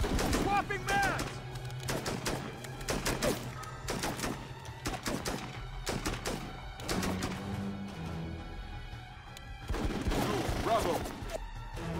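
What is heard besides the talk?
gunfire in the video game Full Spectrum Warrior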